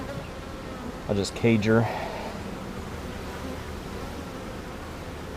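Honeybees in an opened hive give a steady low buzzing hum throughout, with a louder close pass of bees near the start and a voice speaking briefly over the drone.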